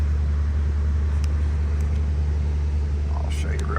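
Car engine idling steadily just after a cold start, a constant low rumble close to the microphone, with faint clicks and a brief rising whine near the end.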